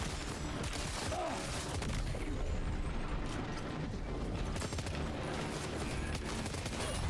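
Dense gunfire in Death Stranding 2, with rapid overlapping shots and mechanical clatter forming a continuous loud barrage, surrounded by busy combat noise throughout and no clear speech.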